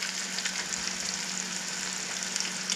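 Food fries in peanut oil in a square cast iron skillet, with a steady, close sizzle and crackle throughout and no talk.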